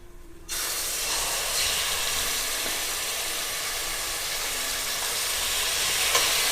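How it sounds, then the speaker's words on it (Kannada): Mutton dropped into hot oil bursts into a loud, steady sizzle that starts abruptly and keeps hissing evenly close by, with no talking. "ಈಗ ಎಣ್ಣೆ ಕಾಯ್ದಿದೆ, ಮಟನ್ ಹಾಕ್ಕೊಳ್ಳೋಣ."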